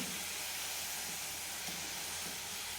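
Sweet modak deep-frying in hot oil give off a steady, even hiss that stays close and constant for a few seconds, with no talking.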